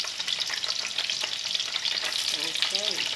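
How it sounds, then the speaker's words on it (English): Extra tofu shallow frying in a pan of oil gives a steady, close, dense sizzle with small spits and crackles throughout, broken near the end by a few brief higher-pitched squeaks. "I have a lot of tofu, so the extra I'm gonna use shallow fry."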